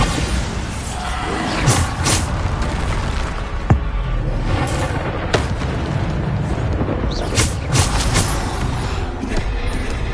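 Spell blasts and impacts from combat in Hogwarts Legacy, a string of sharp booms and crackling bursts scattered irregularly over a busy game soundscape, with occasional voices.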